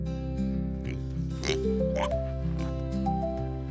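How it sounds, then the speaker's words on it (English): A pig oinks in a cartoonish, clearly produced effect, with short grunting calls over a steady musical backing of sustained tones and bouncing notes. "The pig goes, oink oink."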